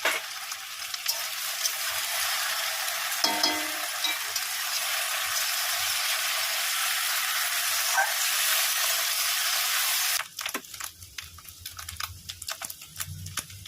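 Fish roe, washed and rubbed with salt and turmeric, frying in a pan with potato pieces, a loud, dense hissing sizzle that holds steady for about ten seconds before dropping to quieter crackles and light stirring.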